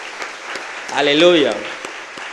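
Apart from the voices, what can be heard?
congregation applause for congress organizers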